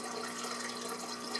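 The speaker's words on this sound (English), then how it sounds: "and the hose is emptying" Water runs steadily out of an aquarium drain hose, a constant close hiss and trickle with no talk.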